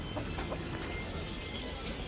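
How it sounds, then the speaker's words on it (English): Live chickens clucking at a roadside restaurant in Nepal, busy overlapping clucks and bird calls amid a dense, noisy outdoor background. "live chickens."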